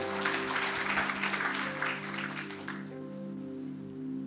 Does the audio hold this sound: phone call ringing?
no